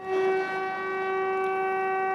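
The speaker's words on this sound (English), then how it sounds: "An air raid siren wails" An air raid siren wails over the nearly deserted frontline town of Kupiansk, Ukraine, a steady sustained tone with strong harmonics, unbroken and heard alone with no voices.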